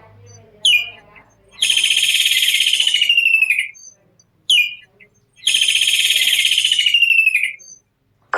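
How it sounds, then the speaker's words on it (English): Kingfisher calling: two loud, close bursts, each a short sharp note followed by a long, harsh, rapid rattling trill, separated by a brief silence. "Kingfisher."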